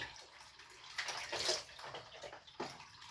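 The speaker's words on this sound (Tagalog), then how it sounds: "Yung mga container mga loves, pupunuin ko ng tubig" Water runs into containers with a faint, continuous trickling and splashing that swells slightly in the middle.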